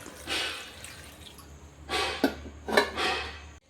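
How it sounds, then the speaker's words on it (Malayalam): Water splashes into a pressure cooker for sambar in a few bursts, with light metallic clinks between pours; close and moderately loud, no voices. "ഇനി വേകാൻ ആവശ്യത്തിനുള്ള വെള്ളം ഒഴിച്ചു കൊടുക്കാം"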